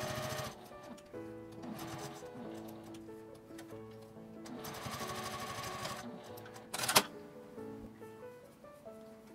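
Sewing machine stitching along both edges of a folded, ironed 1.5 cm fabric tab for a D-ring, running in bursts with pauses, close and moderately quiet, with a sharp click near the end.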